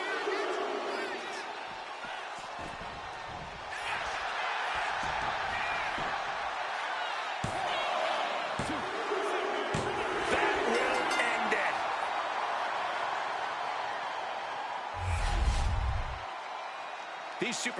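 Video game wrestling arena crowd cheering and roaring steadily throughout a WWE event, with a commentator talking over the noise and occasional impact thuds.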